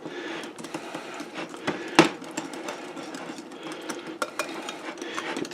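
A small whisk beats sauce ingredients in a bowl for a meatloaf, giving a steady run of close scraping, rattling clicks with one sharper knock near the middle, no voices.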